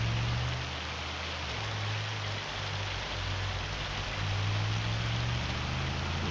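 Steady rain falls in a farming video game, a constant hiss of drops over a low droning hum that holds evenly for several seconds with no talking.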